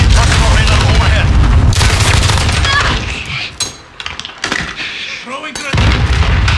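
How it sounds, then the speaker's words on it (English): Cluster strike explosions pound an area in Call of Duty Modern Warfare multiplayer, loud repeated booms and gunfire rolling in waves, dipping briefly before another heavy blast, with game voice callouts heard. "Enemy cluster strike. Take cover."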